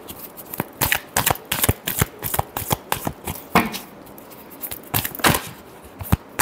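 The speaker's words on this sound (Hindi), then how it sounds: "Last shuffle." Tarot cards are shuffled alone in quick, crisp riffling bursts, with sharp flutters and taps repeating irregularly at close range and moderate volume.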